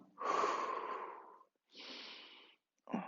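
Three forceful breaths blown out during a gentle stretching workout, the first long and loud, a second softer exhale after a short pause, then the start of another, alone with no talk.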